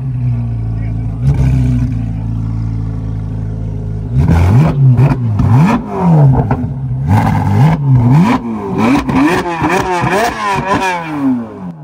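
Lamborghini SVJ engine revving repeatedly at a car meet, a steady idle breaking into sharp, loud rev surges after a few seconds, climbing in quick succession with crowd chatter around it.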